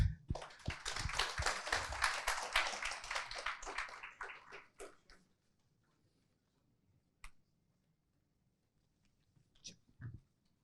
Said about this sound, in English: Please give Mr. Shoaib another round of applause